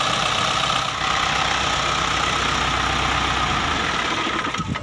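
An Isuzu 4HF1 overhead cam diesel engine, under troubleshooting for a radiator fault with water mixing into the oil, idles in a loud, steady, rattling drone close by, with no talk.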